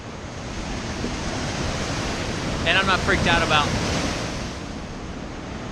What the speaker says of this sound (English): the waves hitting me while I'm down there